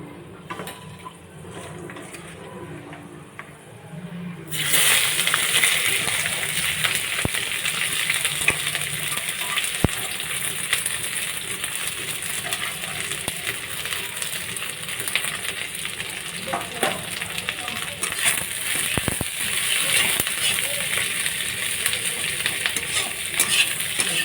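Cinnamon, clove and bay leaf dropped into hot goat fat in a wok burst into a sudden loud sizzle, then keep crackling steadily up close with occasional metal clinks.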